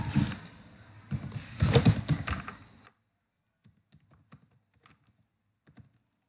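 Computer keyboard keys typing Python code, a dense burst of rapid clicking for about three seconds, then sparse soft taps after a pause.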